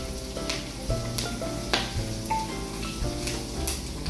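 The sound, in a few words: garlic being sautéed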